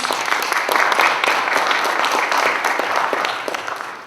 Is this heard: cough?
no